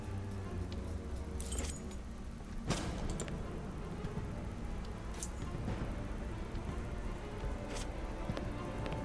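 Keys jangling in a prison corridor, a few bright clinks and rattles scattered over a steady low rumble, fairly faint with no talk.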